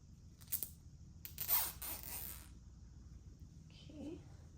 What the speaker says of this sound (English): I'm gonna go ahead and add a zip tie once again